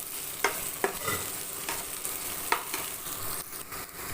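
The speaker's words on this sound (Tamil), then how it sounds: "இப்போ வெண்டைங்க வந்து பாதி அளவு நல்லா வதங்கிடுச்சு இன்னும் கொஞ்சம் நேரம் வதங்கணும்" Half-cooked okra sautéed with turmeric sizzles in a pan, and a spatula stirs it with several distinct scraping knocks over a steady frying hiss. The sound is close, with no talking.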